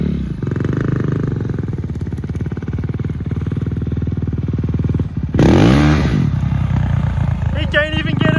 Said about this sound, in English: He can't even get it up because it's just spinning that back tire.